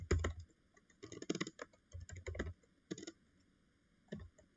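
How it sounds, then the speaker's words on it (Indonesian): Fingers tap out a ping command on a computer keyboard in a command prompt, in short clustered bursts of close, crisp keystrokes separated by brief pauses, with no talking. "masuk command prompt, ketik ping"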